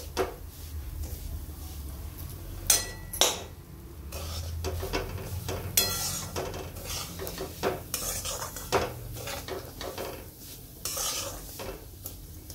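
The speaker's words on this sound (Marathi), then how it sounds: "आपल्याला कमी गॅसवर भाजायचंय, चांगला असा खमंग वास सुटतो किचन मध्ये, तोपर्यंत आपल्याला भाजायचं" Semolina roasting over low heat in a pan for jaggery sheera, with repeated scraping and stirring strokes of a spoon against the metal and a faint sizzle between them, close up and without talk.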